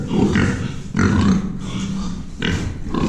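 Pigs kept on a farm for slaughter and sausage-making grunt in several loud, close bursts with brief pauses between them, with no talk over them.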